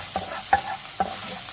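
Garlic and ginger sautéing in butter and oil in a pan, a soft sizzle broken by a few light stirring scrapes, close and fairly quiet.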